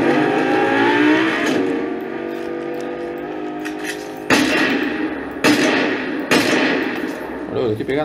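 Rapid gunfire in a Fortnite match, several sharp broadband bursts cutting in loudly over a steady background drone with no talk in between.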